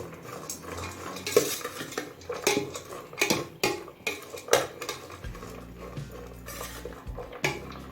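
A ladle mixing bhel puri ingredients in a metal bowl makes repeated clinking and scraping knocks in an uneven rhythm, close and clear, with a low hum joining near the end.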